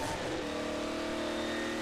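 A car engine revving steadily in the video game Half-Life 2: Episode Two, a continuous droning motor tone at close range.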